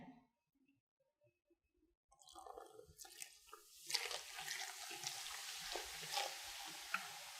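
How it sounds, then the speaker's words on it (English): Vinegar is poured over baking soda in a rainbow science experiment: after a near-silent start, a rising pour gives way to a dense, continuous fizzing and crackling of bubbles that stays fairly loud to the end. "you have a very fun bubbling effect"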